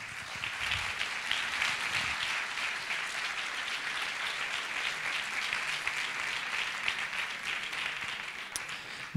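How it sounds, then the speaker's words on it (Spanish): An audience at a history conference on the plague in Seville applauds continuously, a dense and even wash of clapping that holds steady throughout. "Un aplauso a todos vosotros."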